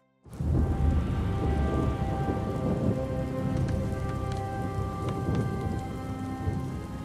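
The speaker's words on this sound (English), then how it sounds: "The storm is receding." Heavy rain pours steadily on a surface in a World of Warcraft cinematic storm, with deep rolling thunder rumbling beneath it from start to finish and no voices.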